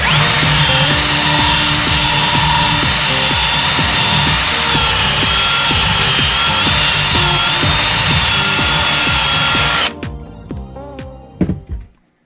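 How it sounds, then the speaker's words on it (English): A power drill whines loudly and steadily for about ten seconds as the bit is moved around to widen a hole, then cuts out and spins down, leaving a few faint clicks and rattles. "I'm gonna just take the drill bit and move it around a little bit just to get a more snug fit"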